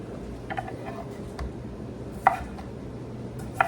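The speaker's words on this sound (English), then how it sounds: "I have one of these little chopper things" Small manual food chopper chopping food into cubes on a kitchen counter, with a few sharp distinct clacks spaced apart over low background noise.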